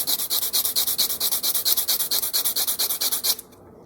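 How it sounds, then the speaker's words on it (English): A knife blade is stroked rapidly against a Lee Valley coarse grind sharpener stone, a loud, close, even rasping rhythm of about twenty scrapes that stops abruptly near the end. "you can actually sharpen it just by, this is a coarse grind sharpener from Lee Valley"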